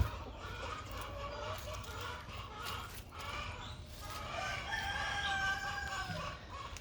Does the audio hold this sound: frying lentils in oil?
no